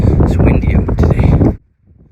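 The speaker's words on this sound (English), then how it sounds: "It's windy out today." Strong wind buffets the microphone outdoors on an abandoned island in the Fraser River, loud rumbling gusts with a voice mixed in, then drops suddenly to near silence.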